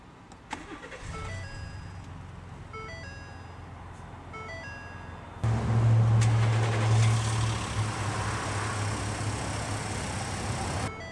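2018 Ford Expedition Limited started by push button: a few soft electronic chimes, then the engine cranks and catches abruptly, settling into a loud steady idle rumble heard from close by.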